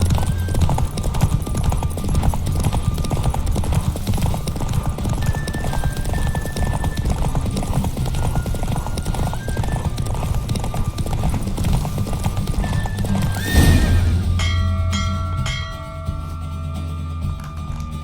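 Horse hooves gallop at full speed in The Witcher 3, a steady rapid clip-clop under layered game music and wind rush, ending in a sharp whinny near the end.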